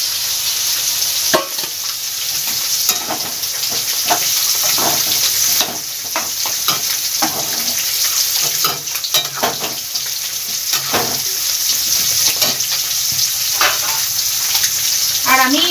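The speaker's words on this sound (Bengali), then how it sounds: "যে ডালটা সেদ্ধ করে রেখে দিয়েছিলাম সেটা দিয়ে দেব" Boiled mung dal going into sautéed spices and vegetables in a pan, a continuous loud sizzle with repeated scraping stirs and small clinks of a spatula throughout.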